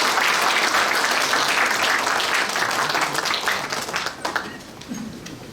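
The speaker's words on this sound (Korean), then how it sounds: "함께 오신 분들을 위해서 감사 박수 보내겠습니다" A church congregation at a mission society's general assembly worship service claps in thanks, a thick wash of applause that stays strong before thinning and tapering off toward the end.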